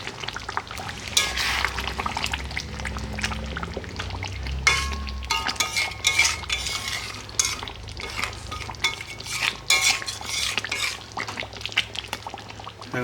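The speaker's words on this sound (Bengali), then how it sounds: "তো নাড়িয়ে দিই" A fish curry of rupchanda pomfret with milk and yogurt is stirred in a pot, giving irregular scraping and wet churning with a steady simmering hiss underneath, close and moderately loud, no voices.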